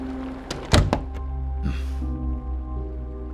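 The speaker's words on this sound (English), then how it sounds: "And the door is closed behind you." A door swinging shut with a solid thunk and a couple of quieter knocks, heard close over a steady low hum, then a brief soft rustle.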